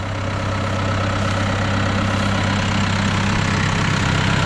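A farm tractor's diesel engine idles steadily during soybean sowing, a loud, even low rumble with a constant hum that runs unbroken from start to finish.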